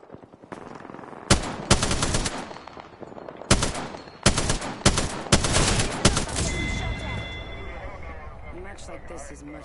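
Bursts of automatic gunfire in a shooter game, several loud close volleys of rapid shots separated by short pauses, then fading into softer background noise and a faint electronic tone, with a voice talking over parts of it.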